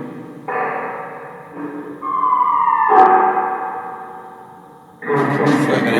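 A rising, siren-like wail comes through a spirit box radio sweep at the Roosevelt Hotel, swelling to a sharp peak midway and then fading, bracketed by bursts of scratchy static and garbled radio noise.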